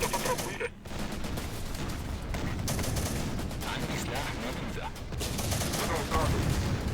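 Sustained gunfire in the war strategy game Syrian Warfare, set in the battle of Aleppo, with overlapping rifle and machine-gun bursts forming a dense, continuous barrage for several seconds while someone talks over it.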